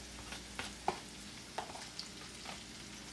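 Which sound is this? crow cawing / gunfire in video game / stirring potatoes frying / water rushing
stirring potatoes frying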